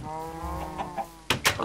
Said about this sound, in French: Les poules.